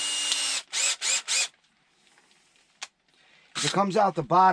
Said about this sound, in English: I got to take a long drill bit and just drill as careful as I can